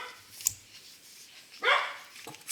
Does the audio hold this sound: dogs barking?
yes